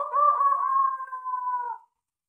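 A rooster crows once at dawn, a single clear drawn-out call lasting nearly two seconds that ends abruptly into silence, close and alone with no talk.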